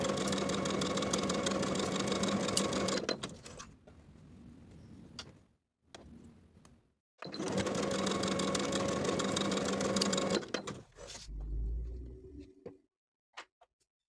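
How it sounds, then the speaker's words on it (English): A home sewing machine stitches waistline and bust darts on a women's blouse and pencil skirt, running in two long steady bursts with short pauses and quiet handling between them. "Sew the darts from the outside edge to the point"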